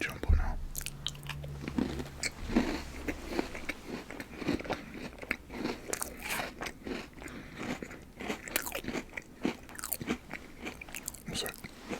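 Oreo ice cream bars and Double Stuffed Oreos being eaten close to the microphone, with repeated crisp bites and crunchy chewing in an irregular rhythm over about twelve seconds.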